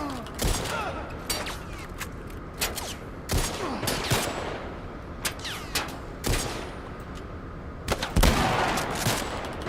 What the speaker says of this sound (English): Shouldn't the gunshots be louder because I can't even hear that we're under attack?